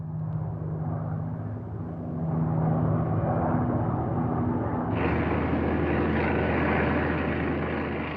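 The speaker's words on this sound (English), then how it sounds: "Formations of Japanese bombers and fighters arrived at Clark Field in the Philippines" Formations of World War II Japanese bombers and fighters drone overhead, a loud, steady roar of propeller engines that swells and then deepens partway through, with no talking.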